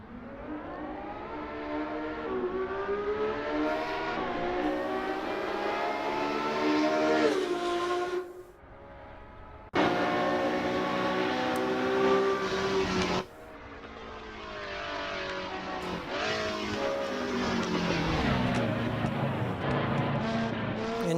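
A race car engine in an Assetto Corsa Competizione replay wails through rising and falling revs with repeated gear shifts. It drops away briefly twice before roaring back loud and close.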